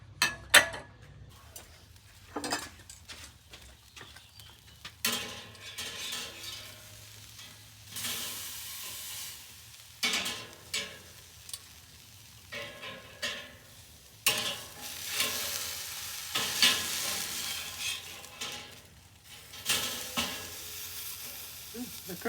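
Food on a BBQ grill over hot coals gives soft, intermittent sizzling and hissing bursts, broken by clinks and scrapes of grilling tools, fairly quiet and close with no talking.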